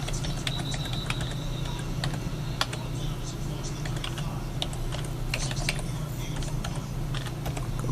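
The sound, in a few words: typing username and password on computer keyboard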